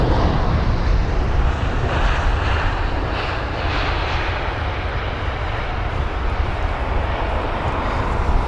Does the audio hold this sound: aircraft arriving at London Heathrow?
yes